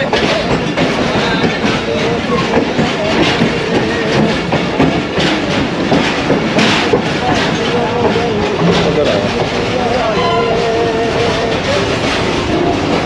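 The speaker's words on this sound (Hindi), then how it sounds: "आप देखें ट्रेन रुकी नहीं है" The Allama Iqbal Express rolls along between Pattoki and Lahore, a loud continuous rumble with rhythmic clickety-clack of the wheels heard from inside a carriage, while someone talks over it.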